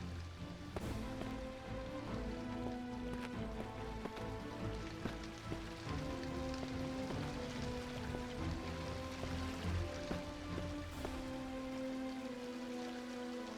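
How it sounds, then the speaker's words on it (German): Steady rain falls outside, a continuous even patter that runs throughout under sustained tonal music, with no talk. "Ich glaube, es regnet draußen."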